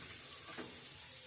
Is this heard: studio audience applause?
no